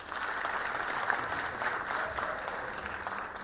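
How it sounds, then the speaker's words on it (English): A crowd at a youth crime prevention gathering in eThekwini applauds the police minister and police leadership, a steady wash of many hands clapping that holds at an even level from start to finish. "Can we give them a big round of applause?"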